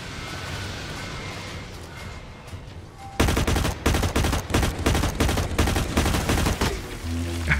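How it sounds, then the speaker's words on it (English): Rapid automatic gunfire in the first-person shooter Blacklight Retribution, loud bursts of repeated shots in close succession during a fight against mechs, following a stretch of steady background game noise. "Damn, I'm massively under fire."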